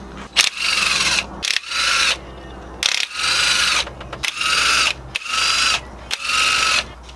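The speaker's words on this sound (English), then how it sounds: "remove these 9, I believe, 10mm bolts and nuts across the valve cover" A ratchet loosens 10mm valve cover nuts on an Audi TT, close and crisp, clicking in about six quick bursts separated by short pauses.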